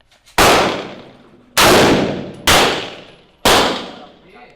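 Four loud, sharp rifle shots from a SIG MCX in .300 Blackout are fired at a steel target, spaced about a second apart. Each crack rings out and fades in a long, echoing tail.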